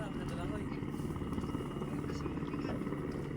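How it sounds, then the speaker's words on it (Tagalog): A rescue helicopter flies over Puerto Princesa with a steady, continuous rotor and engine drone, fairly close and even in level throughout, with no talk over it. "may rescue naman yung helicopter"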